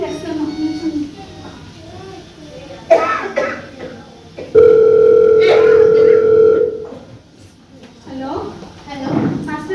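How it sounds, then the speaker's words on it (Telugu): A telephone tone sounds during a call to a doctor about someone bleeding from the mouth after a fall, a steady held tone lasting about two seconds, set between coughs, throat clearing and talking nearby. "నేను డాక్టర్కి ఫోన్ చేస్తాను అత్తయ్య."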